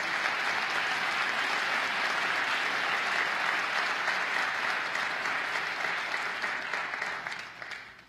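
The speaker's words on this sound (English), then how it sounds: "Let us give you a round of applause" Audience at a State of the State address in the Bronx applauds Senate and Assembly members with loud, dense, steady clapping that holds for several seconds before tapering off at the end.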